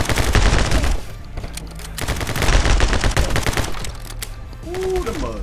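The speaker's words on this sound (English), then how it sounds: "Got the machine gun." Rapid machine gun bursts from the action shooter video game My Friend Pedro rattle loudly in quick runs with brief gaps between them. A short whooshing effect comes at the end, and no voices are heard.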